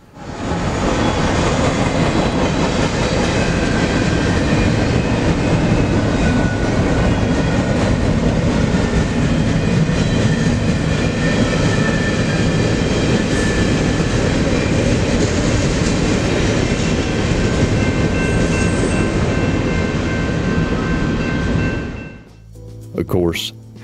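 A heavy, very long freight train rolls past on the rails at Galesburg, Illinois, a loud continuous grinding roar with clattering wheels and metallic squeals that cuts off abruptly near the end.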